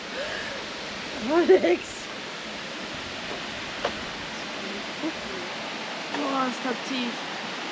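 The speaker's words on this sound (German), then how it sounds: "das ist jetzt mal ein Wasserfall hier" A waterfall near Ordu, Turkey, gives off a steady rushing roar that fills the background, while a voice speaks briefly over it early on and other voices come in faintly later.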